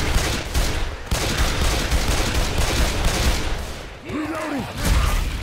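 Sustained rapid gunfire fills a Left 4 Dead 2 firefight, loud and dense like a fusillade with a brief dip before it resumes, and a short tonal game sound appears near the end.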